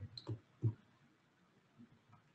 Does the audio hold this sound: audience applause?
no